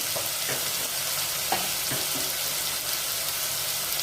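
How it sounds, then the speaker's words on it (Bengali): Potatoes fry in oil with dried chilli and five-spice. A steady, even sizzle runs throughout, broken by a few soft clicks and pops from the pan. "শুকনো লঙ্কা দিয়ে দিলাম আর 5 ফোড়ন দিয়ে এই আলুটা তেলে রেখে চাপা দিয়ে ভাজবো"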